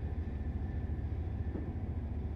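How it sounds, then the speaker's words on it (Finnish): A moving train rolls past on the neighbouring track in the Train Life railway simulator, a steady low rumble with a faint whine, fairly quiet and continuous, with no voices. "Okei, siinä oli näköjään liikkuva juna tällä kertaa."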